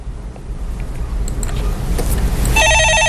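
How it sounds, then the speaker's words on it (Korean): A telephone rings in a Korean stock market call-in broadcast studio, a loud repeating electronic ring pulse that cuts in near the end over a low background hum, with no talking. "예, 전화 받아보겠습니다."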